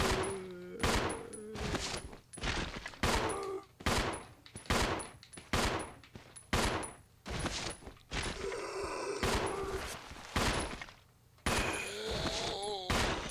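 Gunfire in Resident Evil Zero HD Remaster as zombies are shot, each crisp shot or short burst separated by pauses, steady and close, with mechanical clicks and a groan between them.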